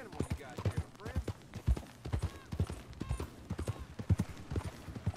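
Horse hooves clip-clop in a steady walking rhythm in the video game Red Dead Online, close and distinct, with a voice talking over the hoofbeats.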